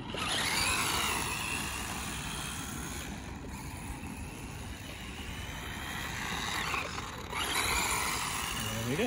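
A 2020 Tamiya Fire Dragon RC car with its stock kit 540 motor and metal bearings whines as it drives at Fairhaven Lake, the motor rising and falling steadily with talk in the background.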